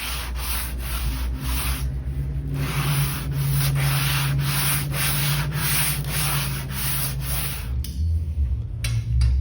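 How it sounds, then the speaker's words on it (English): A blade scrapes across a wooden end table top in steady, repeated rasping strokes, close and fairly loud, with a short pause near the end. "I'm going to scrape the top, not sand it"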